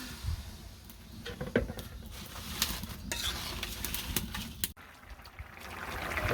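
Water poured into a hot cooking pan sizzles at low level, with scattered clinks and stirring scrapes of utensils against the pan, a short sharp knock midway, and no talking.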